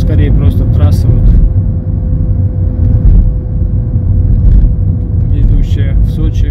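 A car drives along a highway near Tuapse and Lazarevskoye on the route toward Sochi or Krasnodar, with loud, continuous low road rumble and engine drone from inside the moving vehicle.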